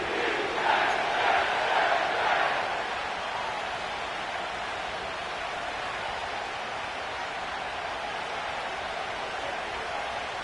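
A dense stadium crowd roars and cheers at MetLife Stadium in an EA Sports football video game, loud and sustained, swelling at first and then settling into a steady wash of noise.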